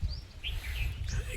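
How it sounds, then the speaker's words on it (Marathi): Birds chirp in a dense forest at morning sunrise with mist, giving several short, clear tweets over a low rumble of wind or background noise. No one speaks. "पक्ष्यांचा आवाज येत असेल,"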